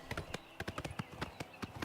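Horse hooves clip-clopping at a steady ridden gait in Oblivion Remastered, a quick regular series of hard knocks, fairly faint and alone.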